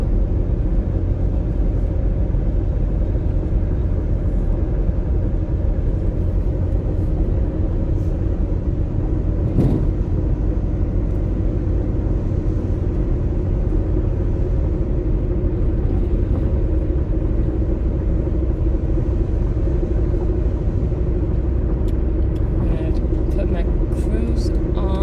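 A 2010 Ford Focus climbs a hill, its engine and road rumble holding a steady, continuous drone from inside the cabin while someone talks over it.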